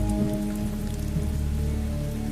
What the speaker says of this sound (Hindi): रात के 11 बज रहे हैं और यह बारिश देख रहा है।